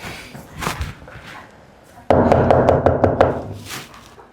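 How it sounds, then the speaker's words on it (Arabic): Knocking on a home's front door: a quick burst of about six sharp raps starting halfway through, loud and close, after a quieter stretch of low household noise. "مين اللي بيخبط؟"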